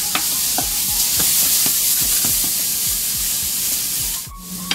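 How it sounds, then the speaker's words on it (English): Mushrooms sauté in olive oil in a pan, a steady close sizzle with repeated scraping stirs, alone without voices. "Spread them out so that they can saute nicely"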